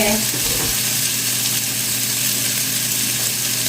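Marinated pork liver frying in a pan with sautéed onion, giving a loud, steady, hissing sizzle that runs unbroken through the whole stretch, with no voices.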